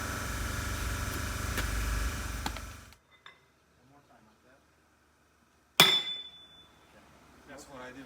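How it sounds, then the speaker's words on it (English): A big sledgehammer strikes a part on a GM 4104 bus with one loud, sharp metallic clang that rings briefly, after a stretch of noisy work that drops to near silence; faint sounds of people follow. "Got a big sledgehammer, just hit this and it's gonna fall to the ground."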